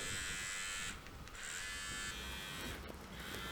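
A Braun MGK7220 10-in-1 beard and hair trimmer runs with a steady, even electric buzz, close and constant throughout, with no talking.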